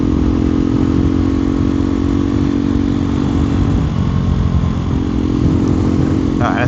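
Loud, steady exhaust drone from a KTM Duke 390 single-cylinder motorcycle running without a decat, heard close while riding, with the engine note wavering slightly through the middle and a brief clatter near the end.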